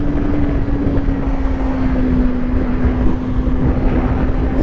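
A Kawasaki Ninja 400 motorcycle riding on a regular road, its engine holding a steady, loud drone with a constant low pitch, mixed with rushing wind and no voices.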